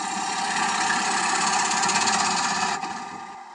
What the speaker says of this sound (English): Plunging cuts, working into the center.